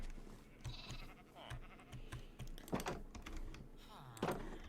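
Sheep bleating in the Minecraft video game, several short bleats scattered across the clip, mixed with quick computer keyboard typing and clicking.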